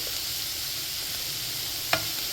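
Onions sautéing with ginger garlic paste in a pan for masala bonda filling: a steady, even frying hiss throughout, with a single sharp utensil clink near the end.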